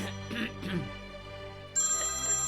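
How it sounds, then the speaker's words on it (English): A telephone rings twice in a quiet room, close and moderately loud, with no talk over the rings. "when the phone rings"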